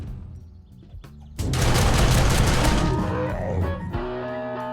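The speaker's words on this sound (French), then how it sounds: "pour que les tourelles automatiques tirent au maximum dans le dos du démolisseur" Automatic turrets firing in the video game 7 Days to Die, a loud dense burst of rapid gunfire that erupts after a tonal lead-in, holds for about two and a half seconds, then cuts off into a humming tone.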